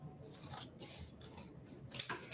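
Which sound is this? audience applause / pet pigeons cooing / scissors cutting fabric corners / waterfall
scissors cutting fabric corners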